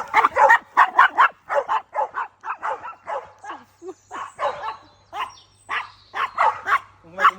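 Several female dogs bark in a steady string of sharp, close yips and woofs, one after another with only brief gaps, fairly loud throughout.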